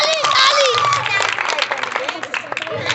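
Schoolchildren at a government middle school clap and cheer during a water-drinking contest, a lively burst of applause and shouts with voices mixed in, fading into scattered claps.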